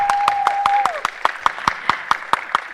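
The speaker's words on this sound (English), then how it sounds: "Will you guys please give them a round of applause?" An audience at a high school panel event claps in a steady, evenly spaced round of applause, with a voice and a sustained tone heard over the start.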